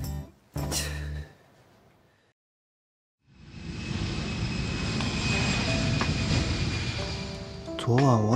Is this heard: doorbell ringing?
no